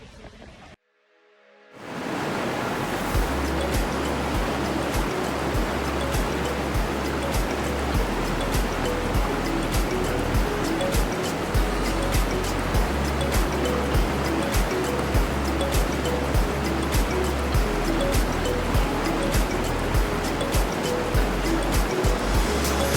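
A roaring waterfall in Costa Rica, visited as a stop on a motorcycle road trip, pours continuously with a dense, loud, steady rush after a brief quiet start.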